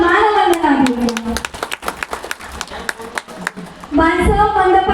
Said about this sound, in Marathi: एकदा जोरदार टाळ्या वाजवून मानवंदना देऊया